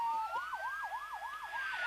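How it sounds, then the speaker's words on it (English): Police car and ambulance sirens wail together, one voice sweeping in a fast repeated yelp while another holds a steady rising tone, loud and close throughout with no talking. "police cars and ambulances pulled up with their sirens blaring and their emergency lights flashing"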